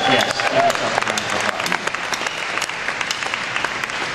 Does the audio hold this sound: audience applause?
yes